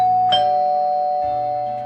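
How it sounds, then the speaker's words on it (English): A two-note electronic doorbell chime rings once, each tone lingering and slowly fading in a quiet room. "Doorbell."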